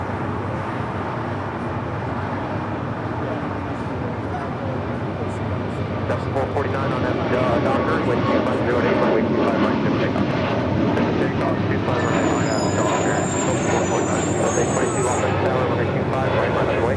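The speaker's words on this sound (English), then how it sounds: "It's a 787-9 Dreamliner performing tests" A Boeing 787-9 Dreamliner on a test flight out of LAX roars steadily past, a broad, loud engine rumble that grows slightly and holds for the whole stretch, with faint radio chatter in the background.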